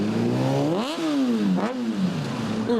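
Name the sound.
city traffic: cars, buses and motorcycles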